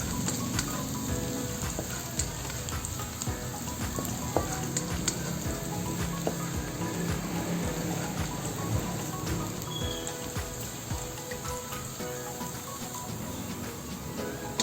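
Garlic browns in a hot pan as the base for sweet and sour pork, giving a quiet, even sizzle and crackle that runs steadily throughout with no one speaking.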